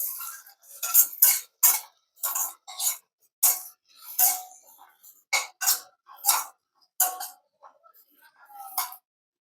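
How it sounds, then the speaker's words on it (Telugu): Carrots fry in a pan for chicken fried rice while a spatula stirs them, giving a series of separate close scraping and clinking strokes with quiet gaps between, no sizzle evident. "కలుపుదాం ఒకసారి."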